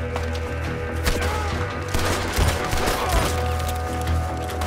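A rapid fusillade of pistol shots rings out in a gunfight in the video game Red Dead Redemption 2, sharp reports cracking repeatedly over a low rumbling background.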